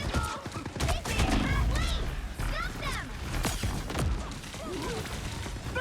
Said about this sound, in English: I'm just getting shotgunned by this Punisher